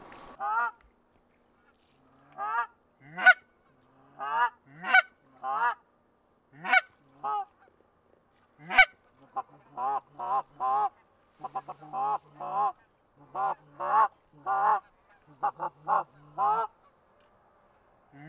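Geese honk loudly and close by on a pond, first in spaced single calls, then in quicker clustered bursts, with no talking.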